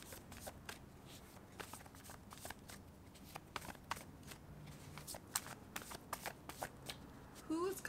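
Tarot cards are shuffled close by in quick, papery riffles and soft slaps, a fast uneven patter that grows a little louder toward the end, with a voice murmuring faintly in the background.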